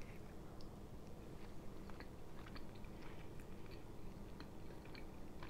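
Soft, close biting and chewing of a chicken and pepperoni pizza, a steady stream of faint crunches and moist mouth sounds over low background noise, with no talking.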